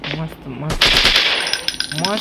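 Rapid bursts of AK-47 rifle fire crackle loudly between brief voices, a short rattling volley in the game Forest Survival Hunting 2.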